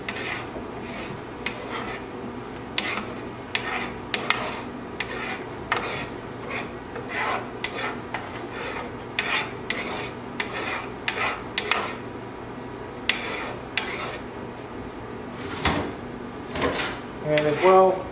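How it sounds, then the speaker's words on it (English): Pan stirring for a lemon chicken and green beans dish: a spoon scrapes and rasps against the pan in repeated close strokes, with clinks and a few brief knocks spread throughout. "And we stir."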